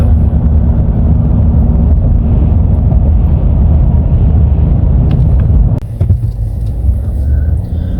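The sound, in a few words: car driving through a town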